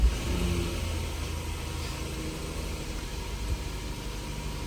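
Car engine running at a steady idle after an ECU tune upload, a continuous low rumble close by with a brief start-up surge at the beginning.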